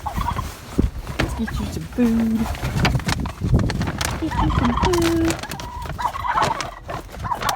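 Turkeys on a farm with dogs and horses give short gobbling calls a few times in the background while someone talks nearby over shuffling feeding noises.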